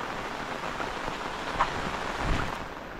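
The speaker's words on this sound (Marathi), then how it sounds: "आणि कंटिन्यू पाऊस चालू आहे." Steady rain falls in the Konkan countryside as a small group walks through it, a continuous, even hiss with no pauses and a few faint drop taps, with no voices.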